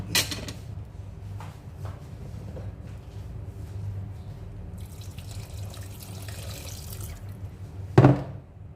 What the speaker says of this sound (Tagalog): Sa tingin natin na sobrang sticky, dagdagan natin ng tubig.